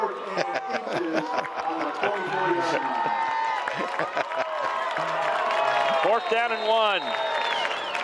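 Home crowd at a Geneseo college football game rises and cheers on a fourth-and-one play, a broad roar of voices and clapping running under an announcer's play-by-play.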